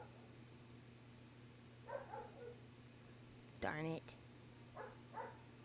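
A neighbor's dog gives a couple of faint, distant barks and yips outdoors over a steady low hum, with brief quiet speech in between.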